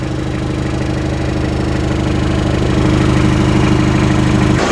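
A 2.0L diesel engine in a 1986 Ford Escort wagon idles steadily around 750 to 800 RPM, close by, a low, even rumble with a regular clatter that holds constant throughout.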